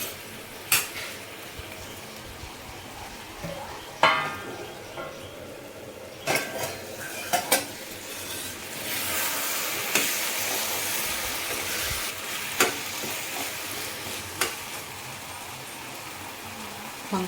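Eggplant and cucumber for chutney cook in a pan with a soft, steady simmer, broken by sharp metallic clinks and scrapes of a utensil against the pan at irregular intervals, close by.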